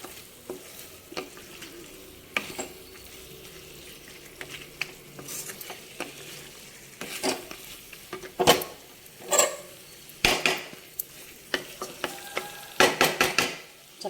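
Mutton and chana dal fry in a pan, a soft sizzle running underneath as a spatula scrapes and clanks repeatedly, the metal strikes growing louder and more frequent toward the end, with no talking.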